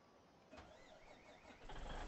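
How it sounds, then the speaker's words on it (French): A truck engine is being restarted, heard faintly at a distance: a quiet bump, then a soft whine, then a fuller cranking surge near the end. "rallumer le camion."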